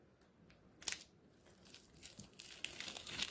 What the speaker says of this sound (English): So, Bennett, why don't you pull that tape off?